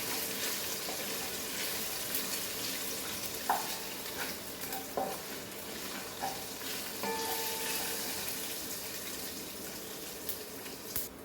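Ingredients roast in a pan over a low flame with a continuous soft sizzle, broken by occasional clinks and scraping stirs.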